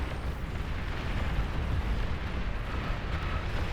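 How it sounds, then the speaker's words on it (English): Massive Juggernaut unit self-destructing in the Beyond All Reason strategy game, a sustained heavy roaring blast of rumbling explosion noise that stays loud and dense throughout, with no talk. "This Juggernaut has a very big explosion that can just catch this entire thing."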